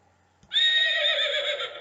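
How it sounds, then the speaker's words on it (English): A horse whinnies once, loud and close, in a long sustained high-pitched neigh with wavering tone after a brief soft onset, with no other sounds around it. "That's a horse"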